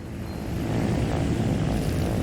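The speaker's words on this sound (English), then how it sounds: "just kick in the helicopter blades just a little bit here as we get down to the bottom" Rotor blades of a player-built helicopter in the Trailmakers video game whir in a loud, steady drone that swells slightly early and then holds constant.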